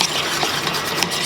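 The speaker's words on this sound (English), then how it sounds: "I'm just going to whisk it around" A fork whisks garlic powder into mayonnaise and sour cream in a bowl, giving a brief, soft, steady scraping and swishing with faint clinks, close and quiet.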